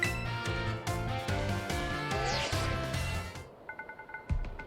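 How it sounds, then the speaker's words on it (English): A phone rings in the Pokemon Scarlet video game, a short repeating electronic ringtone heard over in-game background music, followed by brief tonal chirps near the end. "Luna, your phone's ringing."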